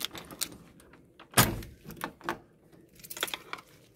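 Keys rattle and turn in the lock of an apartment door, with a sharp metallic clack in the middle followed by lighter clicks and jingles, close by in a quiet indoor space.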